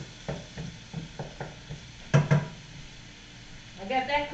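Finely chopped ground turkey for enchiladas cooks on high in a pan, with soft sizzling and a series of stirring scrapes and taps, two sharper knocks midway and a rising sizzle at the end.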